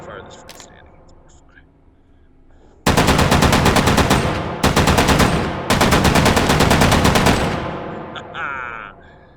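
A heavy World War II gun fires in the H3VR virtual reality game, loosing rapid, loud automatic bursts in three long strings with brief breaks between them, close and dominant after a quiet stretch.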